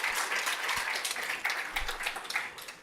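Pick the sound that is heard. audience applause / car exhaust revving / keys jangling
audience applause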